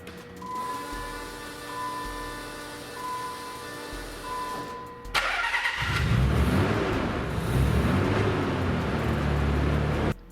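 A Nissan 300ZX twin turbo engine on a dyno cranks with a steady whine for about five seconds, then fires and settles into a loud, rough, continuous idle close by.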